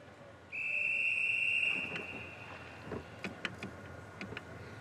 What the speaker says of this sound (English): The whistle goes and they're set for this, the women's 100 metres freestyle S7 final.